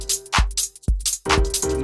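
A drum loop in Ableton Live plays slightly off the grid, with loud punchy kick hits and bright cymbal or hi-hat bursts in an uneven, stuttering rhythm over a sustained tone.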